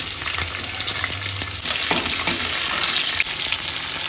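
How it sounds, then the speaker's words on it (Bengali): Ridge gourd and capsicum fry together in hot oil, a loud, steady close-up sizzle that swells a little partway through, with faint stirring clinks and no talking. "ওই তেলে আমরা সমস্ত সবজিগুলোকে এক এক করে ভেজে নিব। লাফা আর ক্যাপসিকাম আমরা একসাথে ভেজে নেব।"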